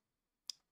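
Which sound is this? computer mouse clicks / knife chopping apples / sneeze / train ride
computer mouse clicks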